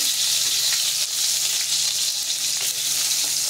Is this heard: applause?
no